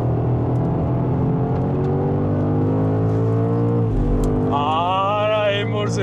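2025 BMW M5 on the move, a deep engine drone steadily rising in pitch, then a brief dip and a sharp climbing rev with a whining tone near the end, loud and close from inside the car.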